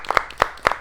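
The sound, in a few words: applause, group clapping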